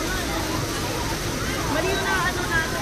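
Water flows down a stream in Discovery Canyon, Canada, with a close, steady splashing rush and faint voices in the background.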